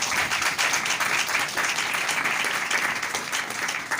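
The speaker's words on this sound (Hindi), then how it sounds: "अगर समझ आइए यहां तक तो जोरदार तालियां दो" A church congregation breaks into loud, sustained applause, dense clapping filling the room without a pause.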